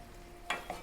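Chicken curry fries in a pan as a spoon stirs it, giving two short scraping, sizzling bursts over a low, steady background hiss.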